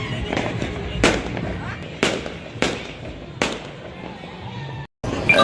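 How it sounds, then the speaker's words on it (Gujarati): Firecrackers burst outdoors during a festive evening, five or six sharp loud cracks spaced about a second apart over a steady hiss of background noise, with a brief cut near the end. "એક બાજુ ફટાકડા ફૂટે છે, ધમાકેદાર."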